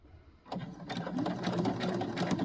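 A sewing machine starts up and runs a continuous, close whirring stitch on a tiny seam, steady and unbroken after a quiet start.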